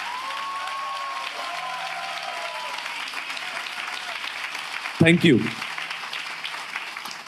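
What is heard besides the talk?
congregation applause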